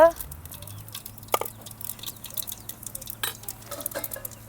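Cumin seeds dropped into hot oil while tempering rasam, giving a light crackling sizzle with scattered pops and stirring clatter, close by, with a voice talking over it.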